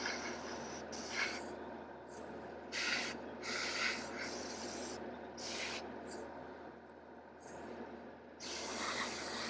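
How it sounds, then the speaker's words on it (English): An airbrush sprays paint at around 15 PSI in short, soft hissing bursts that start and stop repeatedly over a quiet, steady room noise. "It's purely because the PSI I'm running through the airbrush. I'm running it at around 15 PSI"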